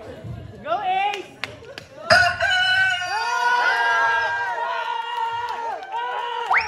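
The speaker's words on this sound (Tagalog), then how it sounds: "Ay, may manok pa pala." A rooster crows repeatedly at a crowded children's birthday party, its calls mixing with loud chatter, shouting and bursts of clapping.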